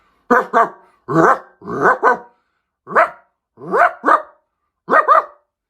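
A person imitates a barking dog, voicing seven bursts of sharp woofs, mostly in doubled pairs with short gaps, loud and close with no other sound between.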